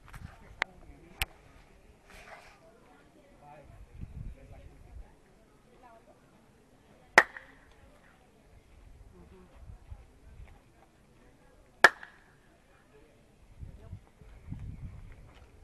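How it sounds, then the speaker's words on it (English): Sharp handclaps ring out in the ancient Mayan ball court at Chichén Itzá, three crisp isolated claps spaced several seconds apart with a bright echo, amid quiet crowd murmur and low voices. "Just listen to the clap."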